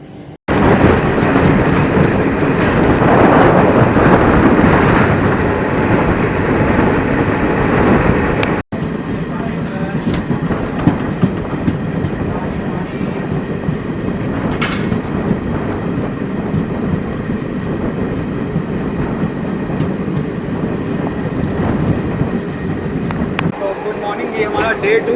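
Inside a moving Muri Express passenger train, a steady loud rumble goes on, with rail cars rattling and clicking over the tracks. It lasts throughout, with a few sharp knocks, and someone talks over it.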